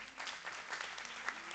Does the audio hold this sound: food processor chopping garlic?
no